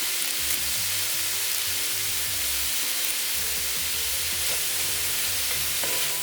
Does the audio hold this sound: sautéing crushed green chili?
yes